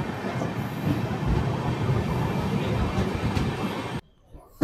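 A 13125 Kolkata–Sairang Express pulls out of Hojai station in Assam with a loud, steady rolling rumble and rattle that cuts off abruptly near the end.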